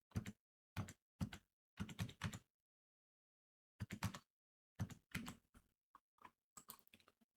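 Keys clatter on a computer keyboard as an order number is entered, coming in short separate bursts of close, crisp tapping with gaps of silence between them and no voices.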